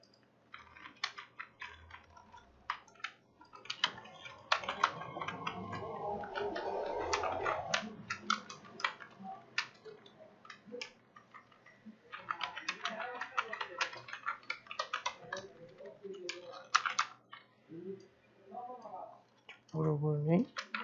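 Keys clatter in irregular bursts on a computer keyboard as a school name is typed into a Photoshop banner design, with a person talking between and over the clicks.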